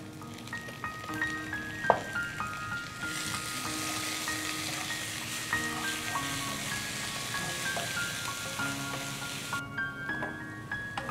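Half a cup of chopped onion and two spoons of onion paste sizzle and fry in oil in a pan, a steady close crackle with occasional stirring clinks and a louder hiss partway through.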